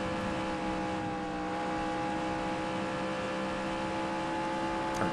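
A truck engine in the NR2003 racing game holds a steady, droning tone at constant revs, with no talking over it.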